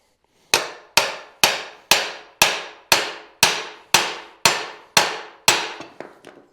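Eleven evenly spaced hammer blows ring out one after another on a car build project, each a sharp close strike with a short metallic decay, the last few softer and quicker.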